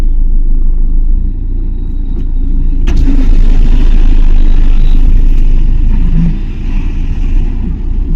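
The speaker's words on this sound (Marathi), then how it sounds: "गाड्या लय येते या रोडला" Steady low rumble of highway traffic, with vehicles passing close by one after another and no voices.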